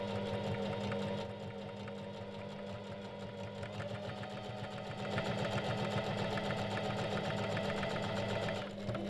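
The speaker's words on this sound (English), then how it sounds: "Lower the presser foot again and continue sewing along the long edge" A sewing machine runs continuously as it stitches along the long edge of robe fabric, a steady mechanical whir with a rapid needle rhythm that picks up slightly partway through and then stops near the end.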